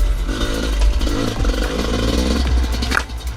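A dirt bike engine revs hard and close, a rough, continuous roar that swells and eases without a break.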